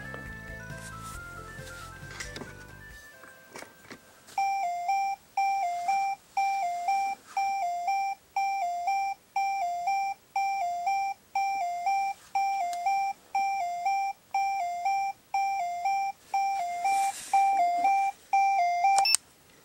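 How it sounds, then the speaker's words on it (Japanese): A McDonald's potato-shaped toy timer rings its fry-station alarm: a loud, close electronic beeping pattern repeating rhythmically in pulsed bursts for about fifteen seconds after a brief spoken countdown. "まあ、Mac に行くと聞けるあの音がね、鳴るということですね。"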